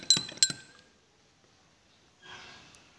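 A spoon clinks twice against a glass of water while dissolving sugar, two sharp bright taps near the start, then a softer stretch of swirling and scraping toward the end.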